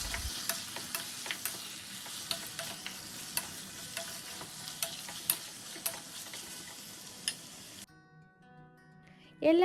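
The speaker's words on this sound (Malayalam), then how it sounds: "ശേഷം നന്നായി ഇളക്കി യോജിപ്പിച്ചെടുക്കുക." Chicken with salt stirred in a pan, a soft continuous sizzle broken by repeated light spoon taps and scrapes, close and quiet, ending in a brief near-silent pause.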